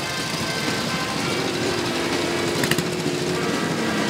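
Engines of pre-1978 motorcycles at a rally in Veendam, a dense, loud, continuous drone of several idling and running engines blending together with a steady buzzing tone.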